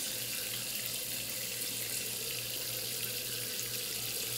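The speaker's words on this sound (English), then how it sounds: "when you wash your hands, you need to use soap and warm running water." Warm water runs from a tap during handwashing, a steady close rushing stream that stays even and unbroken throughout with no speech.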